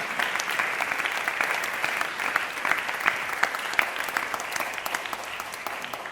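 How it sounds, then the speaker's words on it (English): Steady, even applause from an audience at a national birthday celebration, a continuous patter of many hands at moderate distance with no voices standing out. "So a round of applause for the media team."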